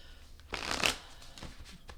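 Tarot cards riffle in a quick shuffle close up, a soft papery burst of flicking that rises and fades within a second or so.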